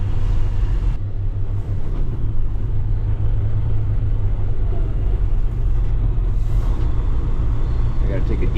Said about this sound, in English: You can really hear the shifts.